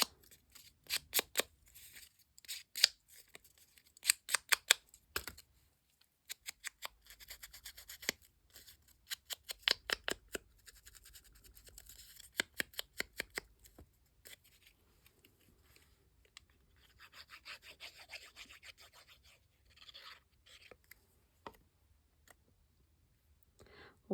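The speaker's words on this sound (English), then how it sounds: "Taylor's. Scissors. Scissors." Scissors snip through paper at a craft table in irregular bursts of crisp clicks and rustles, quiet and close, with pauses between runs of cuts.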